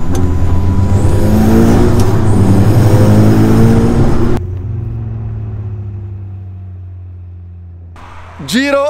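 Dallara Stradale sports car on a race track, a loud engine drone with a voice talking over it that cuts off abruptly into a quieter idle hum, then a sharp rising rev at the end.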